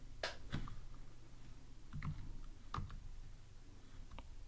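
Quiet, scattered clicks of keys on a computer keyboard come as a few separate taps and short bursts of typing.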